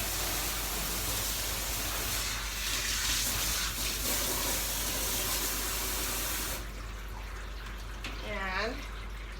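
Water steadily sprays and runs over a show poodle's neck during a bath, a constant close rushing hiss that eases near the end as a voice briefly speaks.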